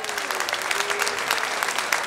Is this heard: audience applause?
yes